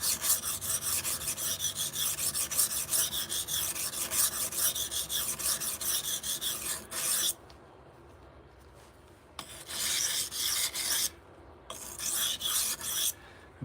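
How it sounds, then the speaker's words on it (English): A knife blade is worked on a coarse sharpening stone during live sharpening, giving a steady rhythmic rasping of quick strokes that pauses twice and then resumes, close and loud with no talk. "Simply going to set our burr on our coarse stone."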